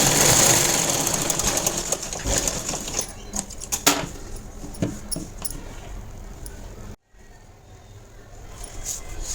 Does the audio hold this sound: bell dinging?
no